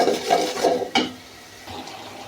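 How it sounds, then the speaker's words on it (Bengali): Turmeric, chili, salt and spice powders with onion and garlic being sautéed for a rohu fish curry with raw tomato and potato, spatula scrapes and clinks against the pan over a faint sizzle, several distinct strokes then quieter stirring. "এখন দিয়ে দিব হলুদ, মরিচ, লবণ, সজের গুঁড়ো। এখন ভালো করে কষিয়ে নেব।"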